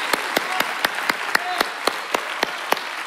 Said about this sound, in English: give him the best hand clap in all the service